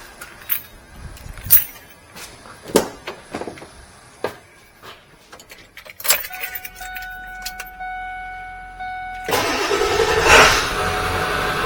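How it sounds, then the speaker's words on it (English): Keys jangle before a car engine cranks and catches during an alternator test, then settles into a steady idle before a louder, rough surge near the end. "we're going to go and start the engine"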